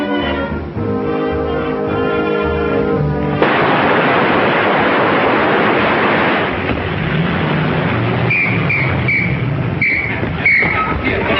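A car engine in an early 1930s film soundtrack, loud and rumbling as it starts up and pulls away, with a dense noisy burst midway and music-like tones over the motor.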